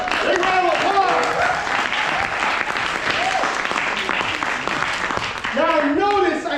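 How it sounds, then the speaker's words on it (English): Big round of applause from a live audience, steady dense clapping filling the whole stretch, with cheering voices and whoops rising over it near the end. "Big round of applause."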